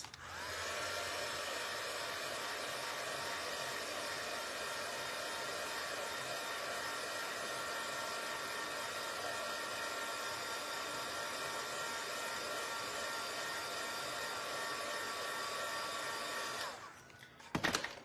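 A hair dryer blows steadily and loudly on marker ink lettering on a round flip-flop season craft sign, a constant airy whir running nearly unbroken before cutting off abruptly at the end.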